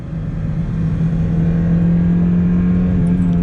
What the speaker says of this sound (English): Full tilt in the Miata.